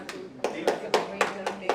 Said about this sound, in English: Can I expect a big round of applause for ma'am?